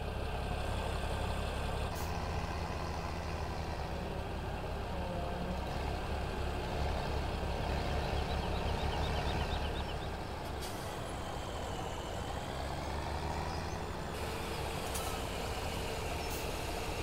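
A tractor in Farming Simulator 17 approaches with a continuous low diesel rumble, joined by brief hissing bursts like air brakes, staying fairly steady across the span without speech.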